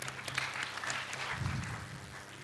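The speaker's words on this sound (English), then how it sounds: "Huge round of applause to our speakers." Audience applause at a conference session on decent work in global supply chains, a steady, fairly faint patter of clapping that lasts through the whole short stretch without talk.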